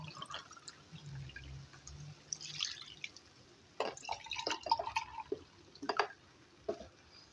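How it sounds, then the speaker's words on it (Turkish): Milk poured into a pan of spinach, heard as soft dripping and liquid splashes with a few sharper spills and clinks, set against a faint kitchen background with no talking. "Ardından 2 su bardağı süt ilave ediyorum."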